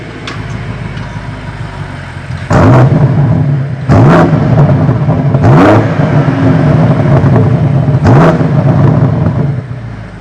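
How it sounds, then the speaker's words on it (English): BMW M5 Competition LCI, tuned, driving with a steady engine drone inside the cabin, punctuated by four sharp rev surges and throttle blips that rise and fall across the drive; no talking. "it's now time to jump into the car and actually drive it"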